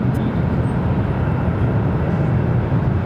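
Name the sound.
Delta airliner taking off from runway 7 left, Phoenix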